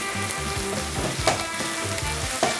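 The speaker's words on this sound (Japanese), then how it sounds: "さあもう少し炒めていきましょう。" Ginger stir-frying in a pan for a soft-shell crab yellow curry, a steady close sizzle with bursts of scraping and tossing from the spatula, no voices.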